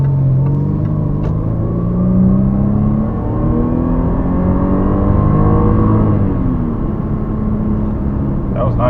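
A Jaguar XJ engine revs and accelerates steadily, its pitch climbing through gear changes, loud and close throughout.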